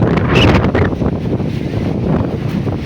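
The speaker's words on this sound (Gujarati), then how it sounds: "પવન જોરદાર છે" A strong seaside wind blows at Gomti Ghat in Dwarka, buffeting the microphone with loud, gusty low rumbles and rushing noise that swell and ease continuously.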